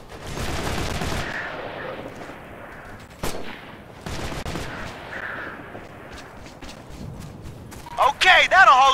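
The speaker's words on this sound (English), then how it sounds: "We're taking heavy fire." Heavy gunfire in the Operation Flashpoint: Red River military shooter, with sustained bursts of automatic rifle fire and a sharp single crack partway through, then renewed firing and a loud close burst at the end, mixed with radio chatter.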